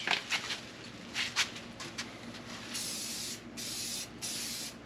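An aerosol rattle can sprays paint onto the hood of a 1998 Mercedes C230, with short hissing bursts followed by longer sustained sprays, close and fairly quiet.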